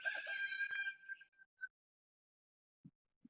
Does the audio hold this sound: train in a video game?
no